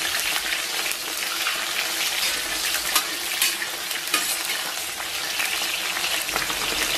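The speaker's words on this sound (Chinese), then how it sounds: "简单煸炒一下" Scallion and ginger stir-fry in lightly heated oil in a wok, producing a steady, loud sizzle and frying hiss with occasional stirring scrapes, alone without speech.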